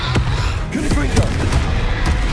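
A Confringo explosive spell in Hogwarts Legacy sounds off as a series of sharp blasts and cracking bursts, several distinct impacts over a rumbling low bed, with some vocal sound mixed in.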